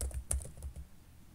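Soft, close clicks of fingers typing a short command on a computer keyboard, a brief run of quiet keystrokes with no voices.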